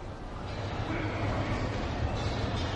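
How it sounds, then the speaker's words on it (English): Ambience at a railway station, where a dense, steady rumble of rail noise and a train fill the space continuously at a moderate level, with a voice faintly mixed in. "Don dan Jane telah tiba di stasiun kereta api"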